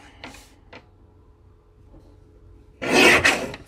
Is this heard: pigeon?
no